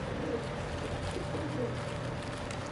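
A pigeon coos softly and repeatedly outdoors, nearly buried under steady broadband street or wind noise.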